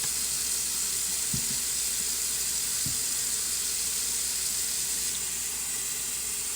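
A steady, hissing rush of water pours from a faucet without pause, with a couple of faint low knocks underneath.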